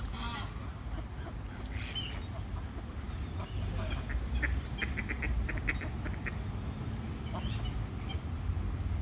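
Ducks quack in short bursts at an outdoor pond with Canada geese around, fairly faint against steady outdoor background noise, with occasional voices nearby.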